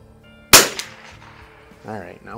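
A Lakefield model 91T .22LR bolt-action target rifle fires one sharp, loud shot that rings out briefly and decays, followed by quiet handling noise and a short bit of speech at the end.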